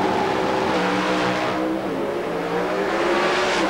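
Pro Stock drag race cars launch in the final round at the 1992 NHRA Motorcraft Ford Nationals in Arizona, making a loud, continuous engine roar that holds steady across the whole stretch.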